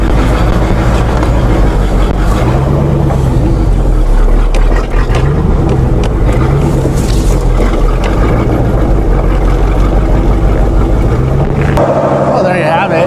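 A 1985 Chevy engine running after a carburetor adjustment: loud, continuous low rumbling drone close by, steady throughout before cutting off near the end.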